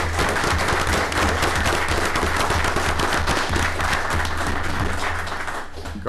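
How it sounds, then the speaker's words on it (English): A round of applause at a county fiscal court regular session: dense, steady clapping from a roomful of people, sustained for several seconds before tapering slightly at the end. "I'd like to give them a round of applause"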